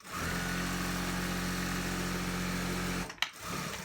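A sewing machine runs a steady, close, humming stitch for about three seconds while back tacking the crotch seam of fleece track pants, then stops abruptly, followed by a brief clack.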